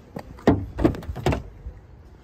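Door handling on a 2017 Kia Sportage: a few sharp thunks and latch clicks from the car's door as it opens, close and fairly loud, spaced irregularly with quieter gaps between.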